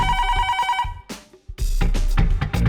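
A telephone rings in repeated electronic bursts, loud and close. A brief pause breaks the ringing before it starts again.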